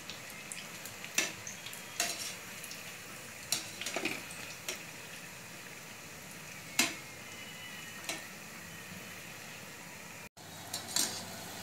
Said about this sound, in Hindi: दो साइड अच्छी तरह से पलट पलट के गोल्डन कलर करके तल के लेने का।